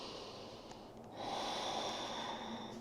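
A long, deep breath taken during a yoga session, with a quiet airy exhale that swells into a steady, breathy flow, close and soft.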